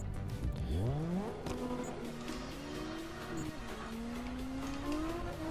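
An Asura M1 drifting on the short, tight Red Ring track in a racing game, its engine revving and rising in pitch while the tires squeal through long slides, loud and continuous up close.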